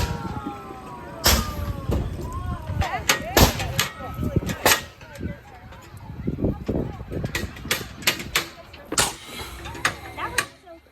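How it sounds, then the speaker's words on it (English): Apple blaster firing apples at targets on a farm, giving sharp repeated pops and thumps at irregular intervals, fairly close, with voices and outdoor background noise around them. "we just got done with the apple target practice, which basically it was like almost like a machine gun that you basically just shoot."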